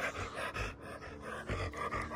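An old dog pants rapidly and steadily at close range, a run of quick breathy huffs with small pauses, with no talking over it.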